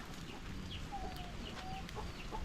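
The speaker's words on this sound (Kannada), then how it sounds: "ದೀಪಣ್ಣ ಕೋಳಿಯನ್ನು ಸ್ನಾನ ಮಾಡಿ" A chicken clucks faintly while it is being bathed, giving a few soft, thin calls over a steady background hiss, with no talking.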